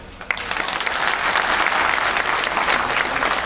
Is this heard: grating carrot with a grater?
no